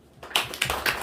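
A church congregation claps during a Sunday worship sermon in a short burst of about three sharp, loud, closely spaced clap clusters, with no talk over them.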